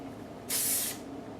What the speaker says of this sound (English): A high lift creation spray from L'Oreal, but any sort of like root lifting hairspray will work.